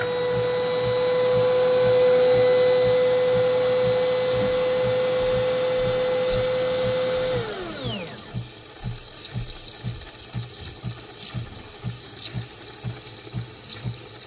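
A home coffee machine makes a cappuccino. A loud, steady mechanical whine runs for about seven seconds, then drops sharply in pitch and gives way to a fast, rhythmic pumping pulse, close by.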